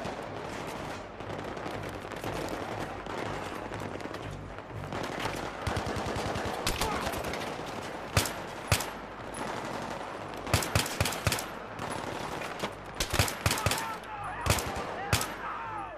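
Battlefield 3 combat gunfire: steady machine-gun and rifle fire rolls throughout, with sharp, loud individual shots punching through in clusters toward the end, and faint voices briefly in the mix.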